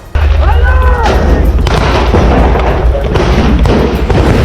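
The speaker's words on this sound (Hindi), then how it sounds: "दुश्मन के हमले से बेपरवाह इन सैनिकों ने खुद भी गोलियां चलाई।" Sharp bursts of gunfire and heavy booms from soldiers fighting Hamas ring out over a constant loud rumble, with voices faintly audible underneath.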